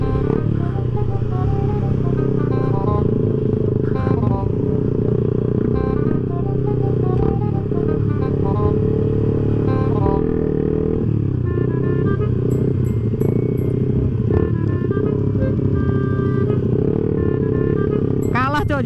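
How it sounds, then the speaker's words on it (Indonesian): A motorcycle engine drones loudly and continuously, with rough revving surges and rattling under indistinct talk. "Banget motor si Anwar, gila."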